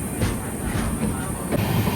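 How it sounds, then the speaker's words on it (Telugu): Kirandul passenger train 58501 rolls along the rails between Visakhapatnam and Araku: a loud, continuous close rumble with rhythmic wheel clatter and a soft hiss, heard from on board. "షిమ్లిగూడ నుంచి కూడా స్టార్ట్ అయిపోయింది మన ట్రైన్"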